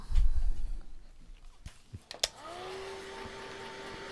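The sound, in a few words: hair dryer drying a craft project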